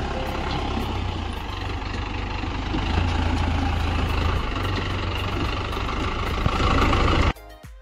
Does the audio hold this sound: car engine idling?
yes